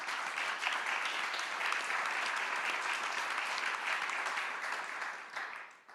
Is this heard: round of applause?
yes